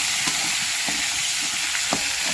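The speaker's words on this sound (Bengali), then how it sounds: "এবারে আমি মাছটা দিয়ে দিব। দেখেন গাইস এই যে এভাবে নাড়াচাড়া করে নিচ্ছি।" Fresh fish fries in a hot pan in a village kitchen while being stirred, a steady loud sizzle broken by a few soft scrapes of the spatula, with no voices.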